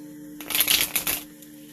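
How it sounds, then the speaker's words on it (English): A quick, close riffle of shuffled cards: a short burst of crisp fluttering clicks lasting under a second. "One more shuffle."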